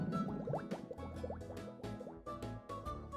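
Bubbling sound effect from the RuneScape game, a run of quick watery plops and gurgles with rising blips, steady and moderately loud, with music-like tones beneath and no speech.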